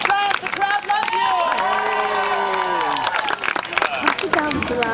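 A crowd at a celebration-of-life event cheers and applauds, lively clapping and shouts close by, mixed with excited voices and rising, drawn-out whoops throughout.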